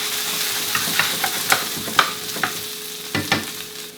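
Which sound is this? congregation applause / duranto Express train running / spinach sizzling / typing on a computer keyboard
spinach sizzling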